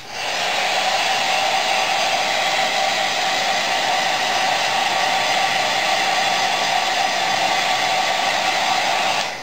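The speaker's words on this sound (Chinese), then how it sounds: "我们用电吹风把它吹干，" Hair dryer blowing steadily on a freshly UV-printed card, a loud, continuous close-up whooshing roar with a whine that holds unchanged for about nine seconds, no voices.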